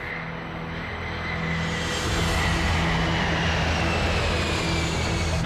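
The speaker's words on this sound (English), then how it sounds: "With every second, the KLM is going faster and faster." A KLM jumbo jet accelerating down the runway for takeoff, a broad roaring engine rumble that swells louder partway through and then holds steady and heavy, with no voices.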